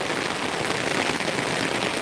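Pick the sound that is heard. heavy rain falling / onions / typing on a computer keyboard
heavy rain falling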